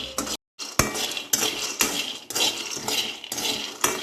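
Peanuts slow-roast in a pan while a metal spoon stirs and scrapes them in repeated bursts of clattering rattles, with one short silent gap and no voices.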